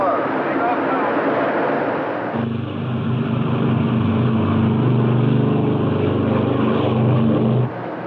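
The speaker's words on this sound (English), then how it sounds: "Ready for takeoff. Takeoff power. Takeoff now." Four piston engines of a 1953 Eastern Air Lines Lockheed L-1049 Constellation propeller airliner roaring at takeoff power, a loud steady drone that deepens into a lower throbbing hum, heard from inside the cabin.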